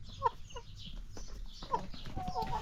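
Hens sick with fowl pox, their faces scabbed and their laying stopped, give soft, intermittent clucks at a modest distance over a quiet background hiss.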